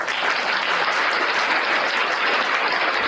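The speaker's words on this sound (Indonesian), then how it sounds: "Tepuk tangan untuk Yudas" Dense, uniform clapping from an audience fills the whole stretch at a steady, loud level, a continuous wash of applause with no voices heard.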